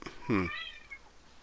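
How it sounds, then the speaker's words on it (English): A female house cat lets out a single clear, rising meow as she demands her dinner, close and distinct over a quiet background. "it sounds like your cat She's demanding her dinner."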